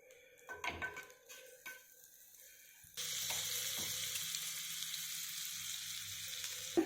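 Butter sizzles in a hot pan while a burger bun toasts, a steady bright hiss that starts abruptly after a few clinks and handling sounds, close and continuous.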